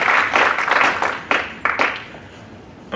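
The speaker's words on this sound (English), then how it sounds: "Give yourselves a round of applause." Audience at a student leadership academy winter workshop claps in short bursts, the applause swelling and fading in uneven waves before dying away, fairly close and loud.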